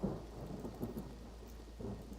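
Rain and thunder in the Mind Over Magic video game, heard faintly as a soft steady patter with low rumbling swells, quiet in the background and without speech.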